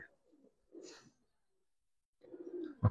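Giribaz pigeons coo in a loft, two short soft bursts of low cooing separated by a quiet gap, with a sharp knock at the very end.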